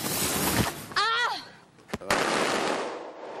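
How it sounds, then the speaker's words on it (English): A thrown firecracker goes off in an outdoor game-show challenge: a short whistling rise, then a couple of sharp, loud cracks close together, with voices around them. "Lane's going to throw her second firecracker."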